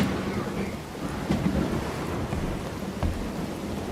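Rain pours down steadily on a video game map while thunder rumbles underneath, a dense, continuous wash of storm sound with no voices.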